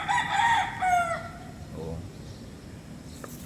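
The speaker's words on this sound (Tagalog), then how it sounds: "At yung manok na tilaok." Backyard rooster crows loudly at close range, a drawn-out cock-a-doodle-doo in the first second and a half, followed by softer clucking and a brief spoken interjection.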